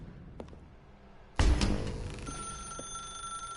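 In The Stanley Parable Ultra Deluxe, a telephone bell starts ringing abruptly after a quiet moment, then keeps going loud and close for a couple of seconds with no voices.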